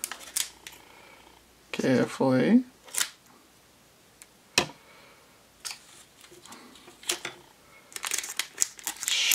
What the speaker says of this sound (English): I'm going to very carefully use some scissors.